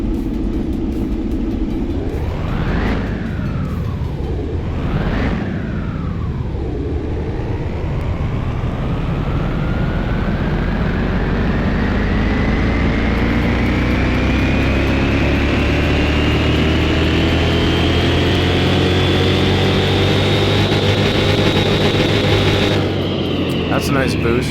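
A boosted car engine revs on a dyno in Car Mechanic Simulator 21, climbing through two quick throttle blips, then winding up in one long, loud, steady rising pull before cutting off near the end.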